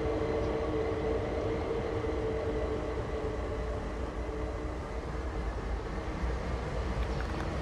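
A train runs with a continuous, steady rumble and droning hum in the video game Train Sim World 2, loud and constant throughout with no pauses or talking.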